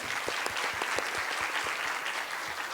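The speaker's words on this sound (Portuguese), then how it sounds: "Por favor, aplausos." Dense, continuous applause fills a lecture hall after a keynote at a USP postdoctoral researchers' meeting, many hands clapping at once, steady and moderately loud for the brief stretch.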